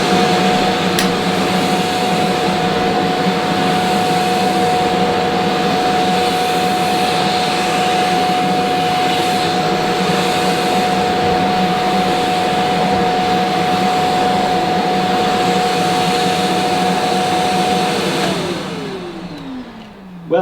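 A Shark CV100UKT bagless cylinder vacuum cleaner runs on carpet with a loud, steady whine and rushing airflow, holding constant for a long stretch before its pitch drops as the motor winds down at the end.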